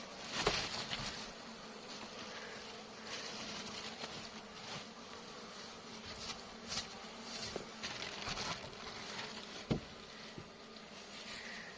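Honeybees buzz around a hive box during honey extraction, a steady low hum with occasional sharper taps and rustles, fairly faint and without talk.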